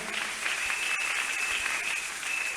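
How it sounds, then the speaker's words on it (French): An audience at a church talk show claps loudly and continuously, dense steady applause for the Lord with no talk over it. "Est-ce que nous pouvons acclamer très fort pour le Seigneur?"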